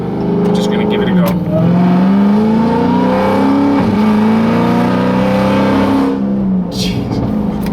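A 1200 BHP Dodge Charger Hellcat SRT roars loud and close, its engine note swelling and dipping through repeated revs without a break.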